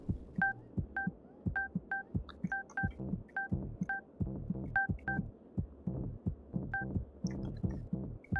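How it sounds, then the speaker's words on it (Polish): Telephone keypad tones beep in quick, regular bursts of two-tone dialing, repeated many times over a low throbbing hum and dull thuds. "Mam nadzieję, że tego telefonu nie było słychać."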